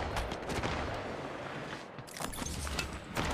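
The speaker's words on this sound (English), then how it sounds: "Firing. I'm taking the shot." Rapid gunfire from Apex Legends Mobile crackles in quick bursts, sharp repeated shots with a brief lull midway before another volley, fairly faint overall.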